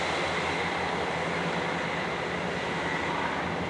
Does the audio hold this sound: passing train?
yes